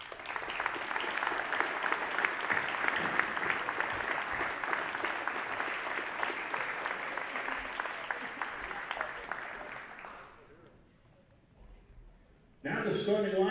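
Warm applause from the crowd at a college basketball game, a broad, steady clatter of clapping lasting about ten seconds before fading, then a sudden loud burst of sound at the very end.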